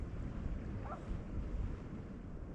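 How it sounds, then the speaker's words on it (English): Low rumble of the sea and tide running off the end of Friars, faint and steady, mixed with soft wind buffeting the microphone. "I get a shot of the tide coming off the end of Friars."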